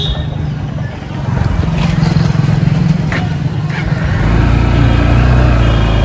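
A vehicle engine hums and builds as it accelerates on the road, rising to a louder, steadier drone in the last seconds, with brief voices in the mix.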